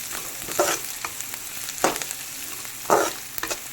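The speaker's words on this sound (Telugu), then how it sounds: "ఇందులోనే కొంచెం సాల్ట్ వేసుకొని వేయించుకుందాం" Egg dish with onions frying in a pan with salt and curry leaves, a continuous sizzle punctuated by three or four loud spatula scrapes across the pan, close and clear, no talk.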